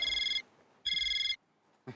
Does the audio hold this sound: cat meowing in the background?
no